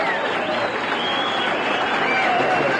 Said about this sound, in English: you're getting a standing ovation here from the crowd